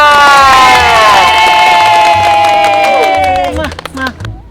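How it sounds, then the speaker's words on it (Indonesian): A crowd at an Indonesian Independence Day competition cheers and shouts loudly, with high children's voices whooping over scattered clapping, then the noise fades out near the end. "tepuk tangan buat Bu Emo"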